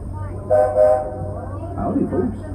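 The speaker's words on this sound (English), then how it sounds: "welcome aboard the Walt Disney World Railroad" Walt Disney World Railroad steam train in Frontierland heading for Fantasyland, with a horn-like whistle tone sounding twice close by over a steady low rumble of the moving train, followed by a voice speaking.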